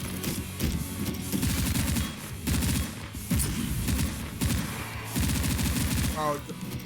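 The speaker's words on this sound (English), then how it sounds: "this dies easily to shotgun" Repeated shotgun blasts fired at a boss in the Slendytubbies video game, booming close shots in quick clusters separated by brief pauses, with a mechanical reload click near the end.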